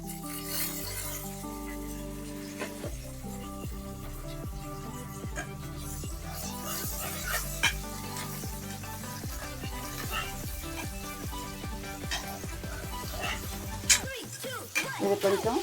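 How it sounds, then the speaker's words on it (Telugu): Carrots frying in a pan with cashews, a soft steady sizzle broken by repeated scraping and clinking strokes as they are stirred, close by and fairly quiet. "ఇది కొంచెం ఫ్రై చేస్తాం."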